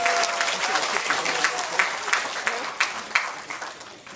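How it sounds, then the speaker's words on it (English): An audience at a veterans hospital volunteer award ceremony in Detroit claps for an honoree, a steady round of applause with sharp individual claps standing out as it thins toward the end. "Everybody give her a nice round of applause."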